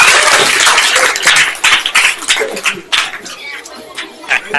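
Teachers clap at a student debate in scattered, uneven bursts of applause mixed with voices and crowd chatter, loud and close throughout.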